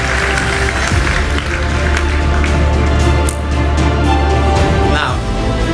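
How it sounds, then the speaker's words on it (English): A conference audience at a Hightech XL event claps in a steady, dense round of applause for several seconds, close and loud, with a few voices and cheers mixed in. "So give them a round of applause"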